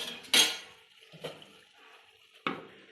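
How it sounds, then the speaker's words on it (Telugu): A lid goes back onto a pan of stuffed brinjal curry on the stove, with three separate metallic clanks and clatters, the first the loudest, in an otherwise quiet kitchen. "మళ్ళీ ఒకసారి మూత పెట్టుకోవాలి"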